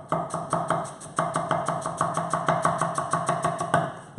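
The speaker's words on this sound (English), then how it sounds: "So I'm going to massacre my flat leaf parsley. Okay, and it's a really soft, tender one, so I'm going to chop the stalks up as well." A knife rapidly chopping soft, tender flat leaf parsley together with its stalks on a board, a fast, even run of close, crisp taps, roughly eight per second, with a brief pause near the start.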